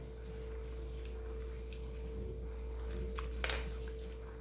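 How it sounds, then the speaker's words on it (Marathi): Fresh cabbage is rubbed and rinsed by hand in a bowl of water in a home kitchen, giving soft, quiet splashing and swishing over a steady low hum, with one brief louder slosh near the end. "आपण आता ह्याच्यात पाणी टाकून घेऊया आणि स्वच्छ हाताने हो चोळून धुवून घ्यायचं आहे"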